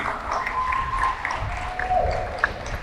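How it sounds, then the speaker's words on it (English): A crowd at a Big Brothers Big Sisters mentor appreciation event claps and cheers, with whistles and shouts rising over the steady applause at close range. "let's give them another round of applause"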